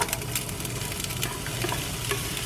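Onions and fresh green and red peppers hit a pan of frying beef, setting off a steady close sizzle with crackling pops and occasional scraping stirs, no voices over it.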